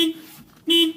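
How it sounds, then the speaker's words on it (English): Two short, loud honks sound from a Vauxhall Combo van horn, separated by a brief pause. "Check your horn."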